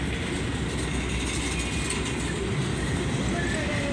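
A Canadian National freight train pulls out of the rail yard at Irondale, a steady, loud rumble of wheels and rolling cars that continues without a break, heard from nearby.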